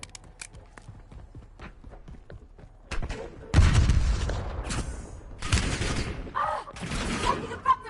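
Gunfire in a war video game, scattered bursts and booming volleys breaking out after a quiet stretch, some shots close and loud, others further off.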